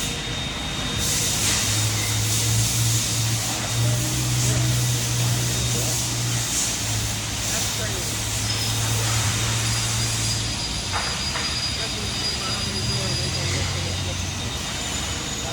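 A ramp door flipper machine at an industrial plant runs steadily for the whole stretch, a loud continuous mechanical drone with hissing and humming layers and a few brief clanks, heard with no talk over it.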